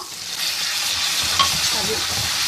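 Butter and water being stirred into hot caramel in a pan, giving a steady close hiss and sizzle with faint stirring scrapes, with no talking.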